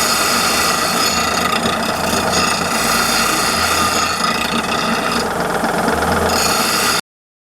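A file rasps back and forth across metal parts while deburring them, a loud close scraping in continuous rhythmic strokes that runs for about seven seconds, then cuts off.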